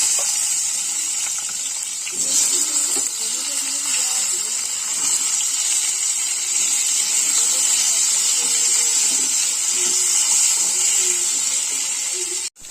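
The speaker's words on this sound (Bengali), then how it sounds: "এবার এই তেলে এই বেগুনগুলিও দিয়ে দেবো, কষিয়ে নেব একটু বেগুনগুলোকে" Eggplant pieces frying in hot oil for a hilsa fish curry, a continuous bright sizzle that stays level throughout while a soft voice talks underneath, ending in an abrupt cut.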